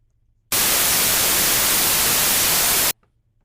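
A harsh, loud burst of white noise generated as one tone for building a drum kit, a flat hiss that starts abruptly, holds steady for about two and a half seconds and cuts off sharply, with no voices.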